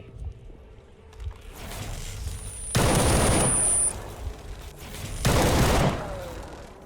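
AK rifle in S.T.A.L.K.E.R. firing HP rounds, two loud bursts of rapid gunfire about two seconds apart over a low ambient game backdrop, no talk.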